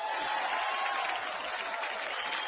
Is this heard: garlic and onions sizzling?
no